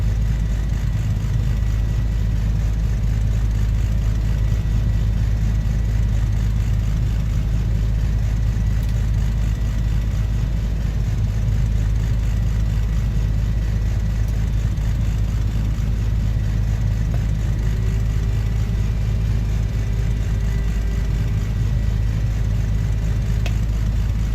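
The left engine of a Beechcraft Duke in Microsoft Flight Simulator runs at a steady, droning low rumble, loud and constant throughout with no change in pitch and no talking.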